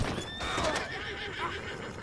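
Horse in the Red Dead Redemption 2 video game whinnying loudly and close, with hooves clopping beneath over a busy town ambience.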